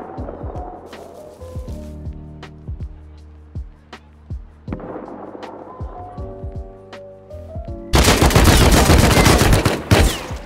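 AK rifle fired in a video game, single cracks and short bursts ringing out over a bed of tonal game sounds, ending in a loud sustained roar of rapid automatic fire.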